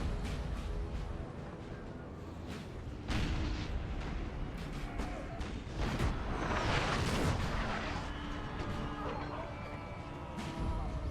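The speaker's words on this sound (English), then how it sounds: "That artillery unit has wiped out at least 70 men." Artillery fire in the Napoleon Total War strategy game, a dense battlefield din of repeated booming cannon blasts and crashing impacts, loud and continuous over the full stretch with no talk.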